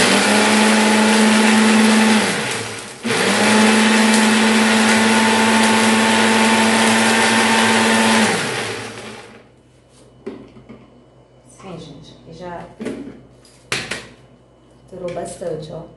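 A Philco food processor grinding coarse salt runs loudly with a steady high motor whine and rattling grains, briefly dropping and restarting, then cutting off to scattered clicks and handling noises.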